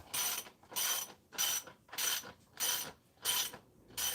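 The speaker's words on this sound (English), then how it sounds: "I'm going to tighten up the axle." A ratchet tightens a motorcycle axle in a garage, giving seven evenly spaced bursts of rapid close clicking, each about half a second long with short pauses between.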